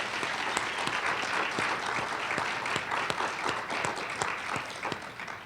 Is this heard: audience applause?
yes